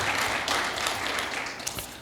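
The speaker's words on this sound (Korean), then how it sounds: "격려의 박수 한번 하겠습니다." Church congregation clapping together during a service, a dense, steady wash of many hands at moderate level that holds evenly for about two seconds with no voices on top.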